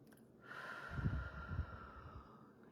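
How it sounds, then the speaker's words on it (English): A single deep breath is drawn in through the nose, close and quiet, starting as a faint airy rush and swelling into a soft, breathy inhale. "So I'll have you just take a few deep breaths in."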